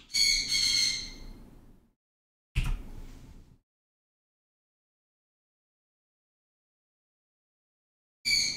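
An indoor pet bird squawks loudly and harshly near the microphone: a long screech, then a shorter one, a long silence, and a final squawk.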